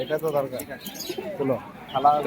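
Pigeons, Giribaz pigeons at the Beldanga pigeon market in Murshidabad, coo softly among busy voices nearby, their low calls surfacing between stretches of close conversation.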